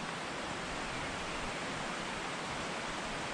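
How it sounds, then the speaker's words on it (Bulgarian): Aleko waterfall on Vitosha mountain, a dense, steady roar of rushing water, loud and continuous with no pauses, heard on its own. "Водопадът шуми."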